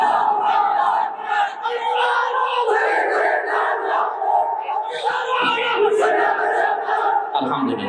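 A large crowd at an Islamic religious sermon gathering roars a takbir response in unison, loud and sustained, with several surging waves of massed voices over about eight seconds.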